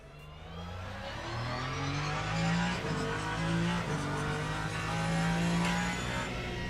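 Race car engine in the Le Mans Ultimate racing game, revving steadily and loud with rising pitch sweeps as it shifts up through the gears, sustained and alone with no talking.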